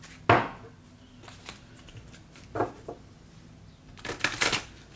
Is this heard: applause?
no